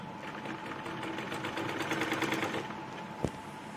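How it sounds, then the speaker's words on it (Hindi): A sewing machine stitches a full-flare Patiala salwar with a steady, close mechanical whirring hum that runs for a few seconds and ends with a single sharp clack. "इसी तरीके से देखिए हमको सिलते हुए चलना है।"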